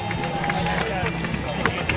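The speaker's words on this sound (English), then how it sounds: "I guess they're cheering me" Spectators line the route of the New York Marathon, cheering and clapping in a continuous crowd roar that runs under nearby babble and a runner's voice over the full two seconds.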